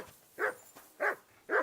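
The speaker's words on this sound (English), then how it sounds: "That dog of yours is barking like the devil." A dog in the video game Kingdom Come Deliverance 2 barks three times at a steady pace, short mid-pitched woofs a little way off, alone without speech.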